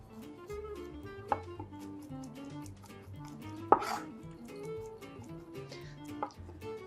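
Kitchen knife chopping garlic cloves on a cutting board, a few sharp close taps standing out over steady background music.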